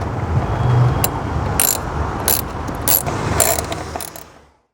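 Mechanical ratcheting and clicking from a screwdriver backing out T-30 screws on a BMW kidney grille, repeated bursts of close, steady work with brief louder clicks throughout.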